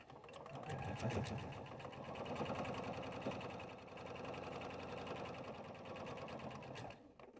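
A sewing machine runs steadily through a seam on fabric for a sippy sling, a continuous close mechanical whir with a rapid stitching rhythm and a brief stop at the end.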